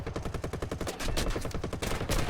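Rapid machine gun fire from a Supermarine Spitfire Mk1a in the War Thunder flight combat game, a dense, continuous rattling burst that runs steadily throughout at a loud, close level.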